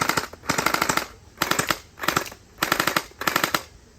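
An AC5000 toy foam blaster fires in five quick bursts of rapid rattling clicks, each lasting about half a second, with short pauses between them. The sound is close and moderately loud, and no voices are heard.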